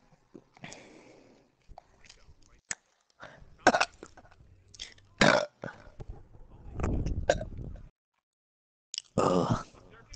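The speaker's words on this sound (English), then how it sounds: "Oh, that was a nasty fucking burp" Several close, loud burps and throaty grunts in a fast-food setting, scattered in short bursts with a long, rumbling belch near the end and quiet gaps between.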